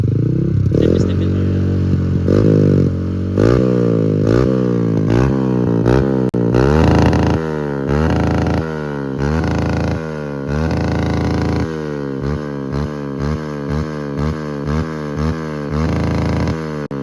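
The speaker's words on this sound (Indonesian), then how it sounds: "Oke, kita cek sound motornya" A Honda Supra X 125 motorcycle engine revs loud and close, its pitch rising and falling in a quick, repeated series of throttle blips that run through the whole clip without any talk.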